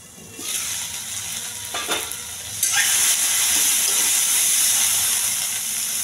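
Unpeeled garlic cloves sizzle and fry in a covered pan for a dondakaya chutney, a steady bright hiss that swells louder partway through and carries on with no talking.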